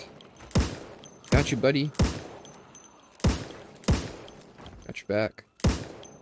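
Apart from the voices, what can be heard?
gunshots in the video game Project Zomboid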